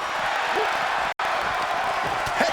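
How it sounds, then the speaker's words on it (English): A virtual arena crowd in the wrestling game WWE 2K25 roars in a dense, steady wash of cheering, briefly cut out for an instant midway before resuming at full level. "The WWE Universe is showing their appreciation for the action they're seeing."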